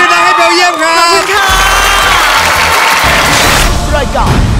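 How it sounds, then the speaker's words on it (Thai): Studio audience of the Killer Karaoke Thailand game show cheering and applauding a contestant, a loud continuous crowd roar mixed with music and a host talking over it. "ขอเสียงปรบมือดังๆให้เบลเยียมครับ"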